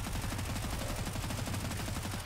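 Rapid automatic gunfire from a zombie shooter game, a steady dense burst of shots running throughout, loud and close with no talking.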